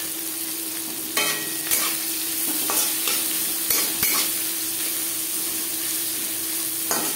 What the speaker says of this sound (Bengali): এবার দিয়ে দেব পেঁয়াজ কুচি, আর দিয়ে দেব চেরা কাঁচা লঙ্কা।